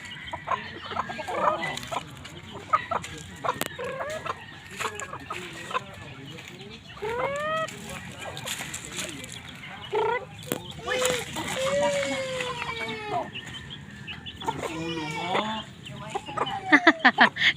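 Several chickens cluck and squawk at close range in Negros, Philippines, with scattered bird calls and a voice speaking intermittently among them.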